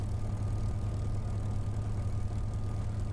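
A Spitfire's engine in Microsoft Flight Simulator, flown around Goodwood, gives a steady, loud, low droning rumble that holds evenly throughout with no break and no voices.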